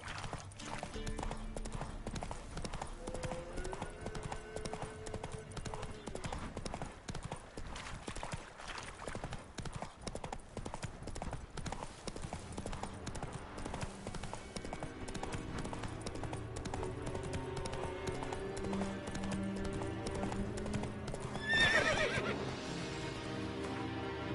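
Horse galloping in The Witcher 3: Wild Hunt, continuous rhythmic hoofbeats throughout over game music, with a loud neigh near the end.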